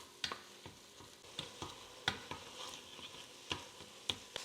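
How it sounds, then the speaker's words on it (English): Ground chuck sizzles softly in a 5-quart Dutch oven over medium heat, quiet frying punctuated by scattered clicks and scrapes of a spoon as the meat is stirred. "cook ground chuck in 5-quart Dutch oven or heavy soup pot over medium heat, stirring occasionally until browned"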